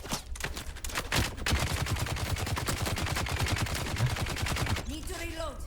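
Rapid automatic gunfire in the video game Dune Awakening, a long dense burst of sharp repeated shots lasting several seconds, loud and close, ending abruptly before a short stretch of quieter game sounds.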